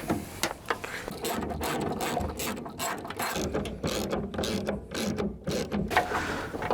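A ratchet wrench clicks in rapid bursts while undoing the door window bolts on an Alpina B12 5.7, close and loud, with pauses between runs of clicking and no talking.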